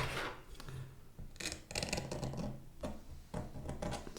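Oil pastel is scraped off paper with a blade in a run of close, rough, rasping strokes, some longer and some brief, with no voices.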